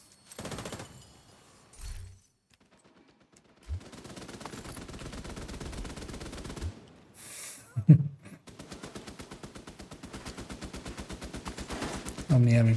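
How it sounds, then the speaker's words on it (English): Video game turrets fire in rapid rattling bursts, sustained automatic volleys with brief gaps, fairly close and steady, ending in a louder blast. "Only having fun with the turrets."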